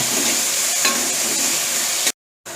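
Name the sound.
tomatoes sauteing in a pan for fish gravy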